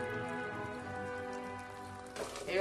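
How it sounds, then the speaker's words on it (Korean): Rain falls in Viñales, Cuba, a soft, steady patter over a sustained tonal hum, with a louder burst of splashing drops near the end. "비냐레스엔 다시 비가 내리기 시작했습니다"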